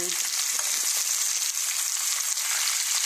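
Seasoned short ribs brown in a hot pan, giving a steady, loud, even sizzle with a faint crackle and no voices.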